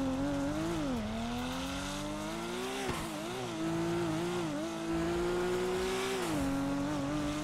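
Truck driving on a highway in GTA 5, a continuous engine drone whose pitch rises and dips with shifting speed under steady road noise, loud and close throughout.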